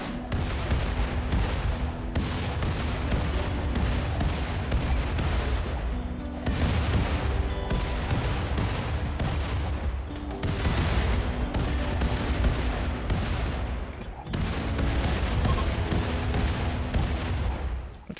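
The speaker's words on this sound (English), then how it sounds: "Turret explosion actually took several out too." Dense, continuous explosions and gunfire from an explosives-only pigskin raid in RimWorld, with a turret blowing up amid repeated booming blasts that roll on without pause over the whole stretch, loud and close.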